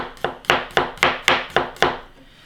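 A knife slices garlic thinly on a cutting board in seven quick, evenly spaced chops, close and crisp, each stroke ending in a firm tap, with no voices.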